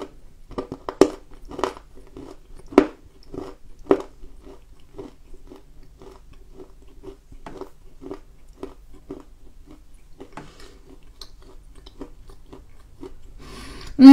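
Cosmetic clay from the southern coast being bitten and chewed, a close series of crisp crunching bites with grinding chews in between, steady and near across the whole stretch, with no talking.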